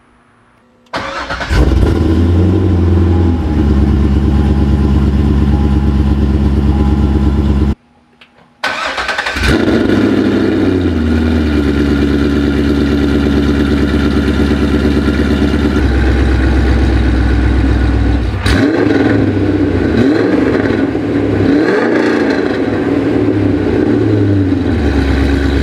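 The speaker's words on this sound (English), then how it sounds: "let's get a cold start going so we can heat up those O2 sensors" A car engine cold-starts with a loud crank and catch, cuts out briefly, then restarts and settles into a steady close idle with a few small rev changes, on a car wired with an AEM UEGO X-series wideband sensor.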